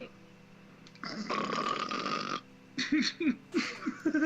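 A voice imitates loud snoring: one long rattling snore followed by a series of shorter, rhythmic snorting breaths, close and fairly loud.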